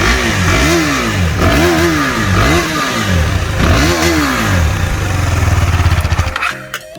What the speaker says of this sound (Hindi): तो गाइज़ ये था एग्जॉस्ट नोट, जिसको सुन के स्माइल आ जाती है बड़ी सी चेहरे में।